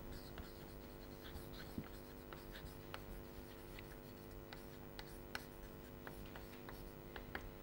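Chalk or pen writing on a board during a logic lecture, faint scratchy strokes and light taps in short bursts over a steady hum, quiet and close.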